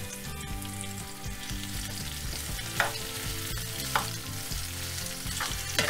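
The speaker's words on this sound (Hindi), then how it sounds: "मीडियम फ्लेम पे इसे हम अच्छे से भून लेते हैं" Chopped onion and slit green chillies frying in a pan over a medium flame: a dense, steady sizzle with a few sharp clinks from stirring, close up and with no voices.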